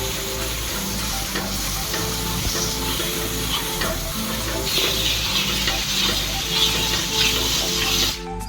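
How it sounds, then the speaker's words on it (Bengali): Dry ground spices sautéed with a splash of water in a pan for a Bengali red chicken curry, giving a steady, close, continuous sizzle and frying hiss with occasional stirring scrapes, no talk over it. "শুকনো মশলা কষাচ্ছি, তার জন্য অল্প পরিমাণে জল দিয়ে ভালো করে কষিয়ে নেবো।"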